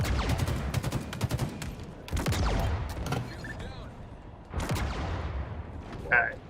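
Machine gun fire in a video game comes in several rapid, loud bursts, with clattering shots and mechanical rattles between them.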